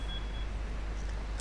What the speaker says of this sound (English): Beeping noise is a timer that we're out of time